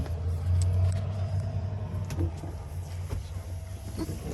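A Ford-keyed RV engine idling with a steady low rumble, a slightly louder surge early on, then settling into an even drone up close.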